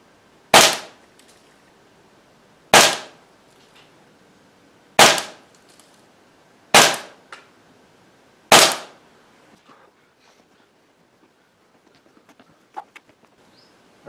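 Five sharp, loud shots from a Feinwerkbau FWB 65 air pistol ring out about two seconds apart, each a crisp crack with a short decay, followed by quiet with a few faint clicks.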